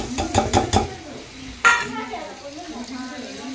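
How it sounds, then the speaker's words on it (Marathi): Onion, capsicum and tomato frying together in a pan for pav bhaji, with a quick run of spoon clanks against the pan followed by a single louder scrape. A quiet sizzle continues underneath. "आता आपला कांदा, शिमला मिरची, टोमॅटो छान परतवला गेलेला आहे"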